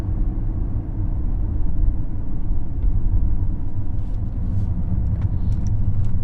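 Tesla Model S Plaid with air suspension cruising, heard from inside the cabin as a steady low road rumble and tyre noise with faint light rattles and no talking.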